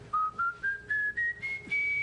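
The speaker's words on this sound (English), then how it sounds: "Whistle a little something for us." A man whistles a short tune alone, a series of clear, bright detached notes climbing step by step in pitch, each held briefly with small gaps between them.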